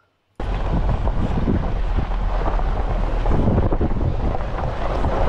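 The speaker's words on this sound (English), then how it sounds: "It's a bit windy, but how is this for a cool spot to go swimming?" Strong wind buffets the microphone at an open outdoor swimming spot near grazing cows, a loud continuous roaring rush with gusty surges starting abruptly after a brief silence, no voices.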